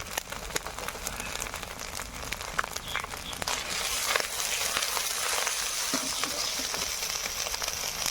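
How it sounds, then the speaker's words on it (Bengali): Turmeric masala with ginger paste, cumin, green chili paste and salt sautéing in a pan, cooked village-style: a steady close sizzle with scattered clicks and scraping stirs, growing slightly louder and denser partway through. "হলুদ মশলাটা সুন্দর কষানো হয়ে গেছে"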